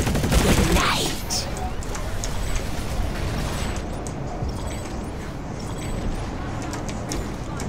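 Video game gunfire crackles in a dense rapid fusillade that peaks loudly at the start, then settles into a continuous mid-level rattle of shots and effects, with game voice lines over it.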